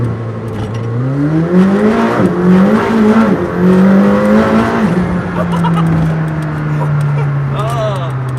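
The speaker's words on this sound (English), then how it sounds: "press the launch button, then on the display it'll say waiting full throttle. You give it hard on the brake, full throttle with the gas." A McLaren Senna launches hard from a standstill, its engine note climbing steadily through the gears as the tires fight for grip, loud and close with faint tire squeal and voices underneath.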